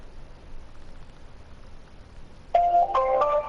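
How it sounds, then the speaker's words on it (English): A phone call on speakerphone starts ringing after a stretch of faint hiss, giving a loud electronic ring tone for about a second before the clip ends. "Okay, so it's ringing"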